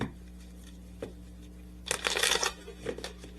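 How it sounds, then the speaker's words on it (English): Tarot cards are shuffled in a brief close riffle burst midway, with a few light card taps before and after against a quiet hum. "Let's just clarify one more time using some tarot cards."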